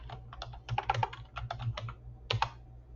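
Fingers type on a computer keyboard in uneven bursts of close, crisp key clicks with short pauses between runs, no voices.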